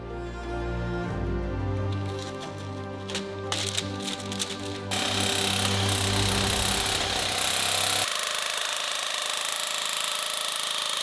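A power tool grinds undercoating off Toyota Supra body metal, starting with a rattling, irregular engine-like buzz and then turning into a dense, loud, continuous abrasive hiss, close and without talk.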